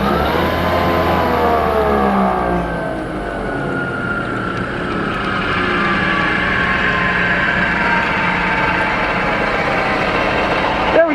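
A power tapping machine turns slowly at its lowest RPM while cutting threads into an aluminum block, giving a steady, continuous motor drone with shifting tonal whine that runs close and fairly loud throughout, with no talk over it.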